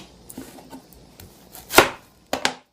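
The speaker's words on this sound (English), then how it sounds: "Paula is chopping an onion so fast." A knife chops an onion quickly on a cutting board, with a few light taps leading into two loud, sharp bursts of rapid chopping close by, no voices over them.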